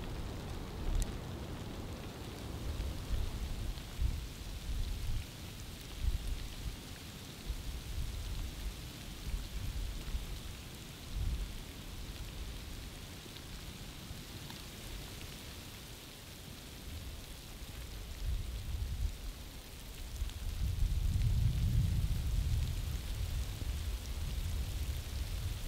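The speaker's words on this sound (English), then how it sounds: "The sleet and freezing rain continues." Steady sleet and freezing rain pelt down in a nighttime winter storm, a continuous hiss of precipitation with low wind rumbles swelling now and then, loudest in a deep gust near the end.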